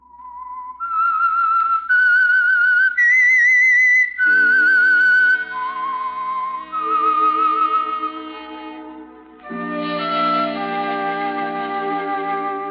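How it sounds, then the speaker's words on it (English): Whistled theme of The Whistler radio mystery, a lone melodic whistle rising in steps then answered by a fuller orchestral passage, loud and clear with no talk. "That whistle is your signal for the Signal Oil program, The Whistler."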